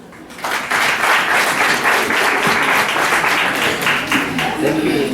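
An audience at an annual general meeting claps for the Treasurer's report, a dense, steady round of hand clapping that starts abruptly and continues loudly to the end.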